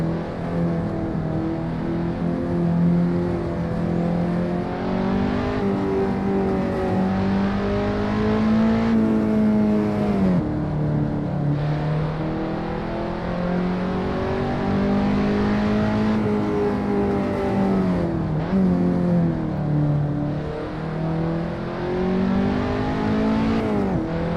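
A 300-horsepower race car with a lightweight chassis in the Assetto Corsa racing game drones loudly and steadily, its engine pitch climbing and dipping through gear changes and throttle lifts.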